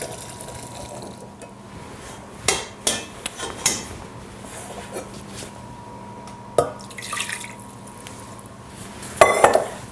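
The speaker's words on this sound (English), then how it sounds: "I'm going to strain this, and then we're going to pour it back in the pan" Duck stock sauce strained and poured into a pan, with a low steady background hum, a few sharp clinks of metal and glass, and trickling, splashing liquid near the end.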